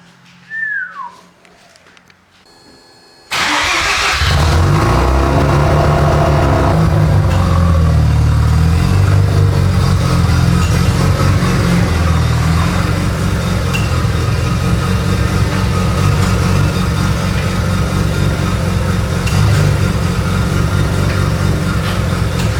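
A lowered Mazda FD RX7 Bathurst R rotary car fires up after a quiet moment and settles into a loud, sustained, buzzy engine note with revving, close and steady for about twenty seconds.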